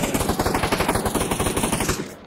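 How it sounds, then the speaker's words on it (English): Rapid automatic gunfire in the VR video game Pavlov VR, a loud close burst of evenly spaced shots for about two seconds before stopping abruptly. "Why are we shooting?"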